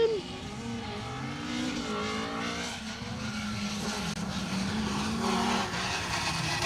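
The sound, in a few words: rally car passing on a stage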